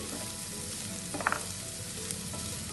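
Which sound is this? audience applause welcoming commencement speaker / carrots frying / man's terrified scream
carrots frying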